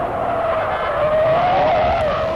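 A car braking hard with a locked wheel, a loud sustained tire screech with a wavering squeal that holds for a couple of seconds, close and alone.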